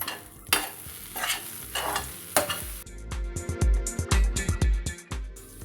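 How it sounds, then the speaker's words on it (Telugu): A spatula scrapes and knocks repeatedly through fresh coconut fry with finely chopped coriander in a pan, the rhythmic stirring loud and close over a soft sizzle, with no voices. "సన్నగా కట్ చేసుకున్న కొత్తిమీర వేసేసుకొని ఒకసారి కలుపుకుందామండి"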